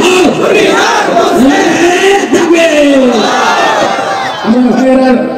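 A large crowd of students at a religious gathering roars a takbir in unison, a loud, sustained chant that swells in repeated waves across the whole clip.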